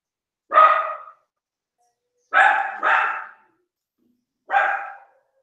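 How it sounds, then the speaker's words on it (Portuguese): A dog barks in four sharp, loud bursts, one then a quick double a couple of seconds later, then a final bark, with silence between, heard close up indoors. "Tu deu comida pra esse cachorro, Douglas?"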